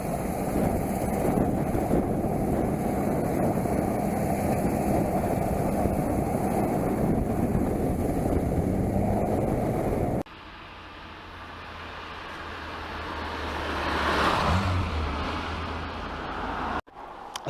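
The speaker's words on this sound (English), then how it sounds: "There isn't a better place to be in a classic car." A 1983 classic car on the move on an autumn day: about ten seconds of steady, loud engine and road rumble, then a quieter, airier stretch with a swell of passing noise before it cuts off.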